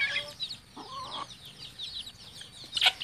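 Chickens cluck softly among scattered chirps, including a bald-headed, aggressive bird being pecked by the others; the calls are faint and intermittent, with a brighter burst near the end.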